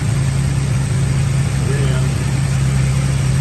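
A steady, low muscle car engine with a new carburetor idles nearby, a constant rumbling hum with no revving throughout.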